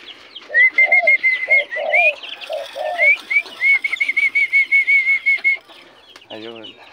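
A pet dove makes repeated whistling and cooing calls at close range, with a few soft flutters, and a brief rougher call near the end.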